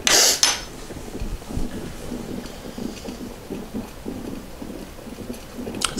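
A Petromax Perkomax coffee percolator brews with soft, busy bubbling and gurgling, a continuous crackly patter like rain, with a couple of sharp clinks at the start and at the end.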